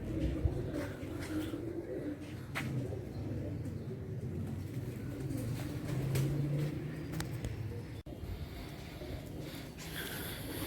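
Pigeons in a loft coo softly and continuously nearby, low murmuring calls over faint rustling and shuffling.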